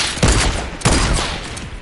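Fortnite gameplay gunfire, two loud blasts about half a second apart, each trailing off in a long booming echo over steady background noise.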